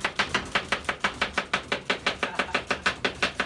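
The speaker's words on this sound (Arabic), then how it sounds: "طبعا أناناس طفش شوي. قصاها بالنص." A knife chops through a pineapple in a fast, steady rhythm of about twenty crisp, evenly spaced cuts, close and clear with no talking.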